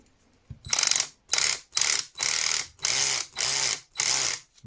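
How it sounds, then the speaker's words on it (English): An Einhell TC-CD 18/35 Li cordless drill's mechanical clutch ratchets loudly in seven rapid bursts, each a harsh clattering buzz separated by brief pauses, close to the listener. "Good old-fashioned mechanical clutch."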